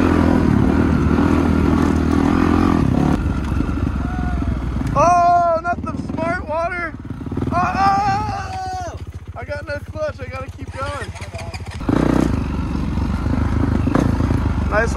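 Dirt bike engine clattering and revving unevenly while picking through rocks on a hard enduro trail, loud and steady throughout, with people talking over it.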